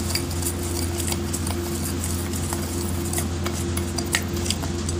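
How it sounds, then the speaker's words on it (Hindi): A spoon beats coffee and sugar by hand in a cup, giving a continuous fast scraping and tapping patter close up, steady for the whole stretch under a low appliance hum. "अब इनको अच्छे से फैट लेती हूँ।"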